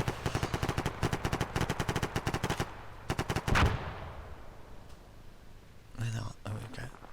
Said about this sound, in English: There seems to be shooting still going on.